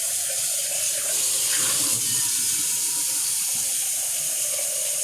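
Hot water running from a kitchen tap into a sink, a steady close hiss and splash that holds constant throughout with no voices.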